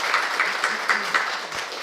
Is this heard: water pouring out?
no